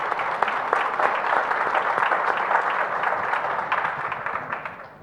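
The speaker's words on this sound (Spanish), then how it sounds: "también un aplauso muy especial" Applause from an audience at a panel discussion, a dense steady wash of clapping lasting about five seconds and fading slightly at the end, with no speech over it.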